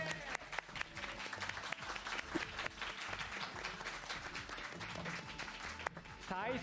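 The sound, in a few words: audience applause welcoming players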